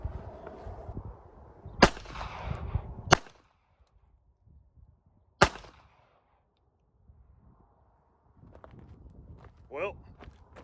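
Beretta Tomcat .32 ACP pistol fired at a range target, three sharp, loud isolated shots spaced irregularly over several seconds, with background chatter and faint movement around them.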